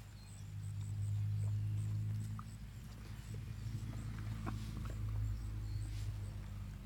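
A dog growls in a low, steady rumble close by, continuous throughout with slight swells in loudness and no talking.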